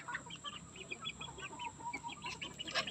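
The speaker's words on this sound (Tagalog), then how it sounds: "Ito yung mga alaga naming manok." Pet chickens in a provincial coop cluck softly and repeatedly, a string of short faint clucks and murmurs close by, with no talking.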